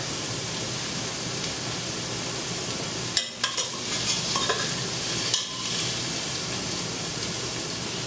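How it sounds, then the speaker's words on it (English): Tomato paste and seasoning sautéing in a pan, giving a loud, steady broadband sizzle that is briefly broken by a few spoon scrapes and stirring strokes partway through. "Now I'm going to put in my tomato paste and my seasoning, and I'm going to saute that down as well."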